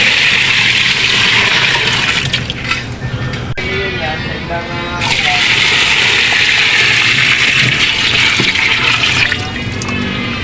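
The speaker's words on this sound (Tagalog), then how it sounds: "lagyan natin ng tubig" Water gushes steadily into a washing machine tub, a loud continuous rushing that briefly stops and resumes, with faint talk in the background.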